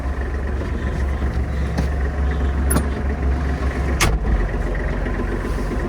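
A Kubota GL-25 mini tractor's diesel engine runs steadily and loud up close as it starts to move off, a constant low rumble with a couple of brief metallic clicks, no talking.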